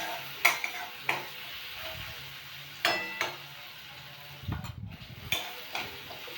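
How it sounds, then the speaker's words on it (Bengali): Green chilli, nigella seeds, onion and garlic fry in oil with a quiet, steady sizzle, broken by repeated sharp clanks of a spatula stirring against the pan. "ওই তেলে কাঁচা লঙ্কা কালো জিরে ফোড়ন দিয়ে পেঁয়াজ রসুন দিয়ে ভেজে নিচ্ছি।"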